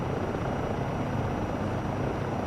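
A helicopter flies in Microsoft Flight Simulator 2024, its steady rotor and engine drone holding loud and unbroken, with no talk over it.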